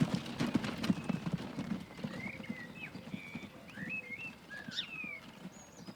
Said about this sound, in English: This horse is moving along at a rapid speed.